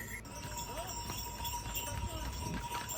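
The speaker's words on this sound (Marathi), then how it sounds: "घोडा अगदी सुसाट वेगाने पळतो आहे" A horse gallops fast along the 22-kilometre Kedarnath mountain trek, its quick hoofbeats running steadily through a constant wash of outdoor noise, with some voices in the background.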